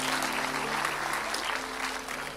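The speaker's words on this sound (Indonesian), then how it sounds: "Beri tepuk tangan yang meriah buat Tuhan." A church congregation at a Sunday service claps loudly and continuously, a dense, even applause filling the whole stretch.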